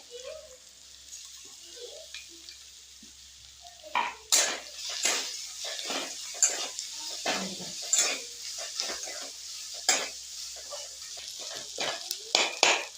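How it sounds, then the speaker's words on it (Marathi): Ground masala filling roasting in oil over a low flame, stirred with a spoon: irregular scraping strokes and soft sizzle, quiet at first, then steady repeated stirs through the middle and end. "हे सारण आपलं वाटलेलं मंद आचेवर भाजून घेणार आहे"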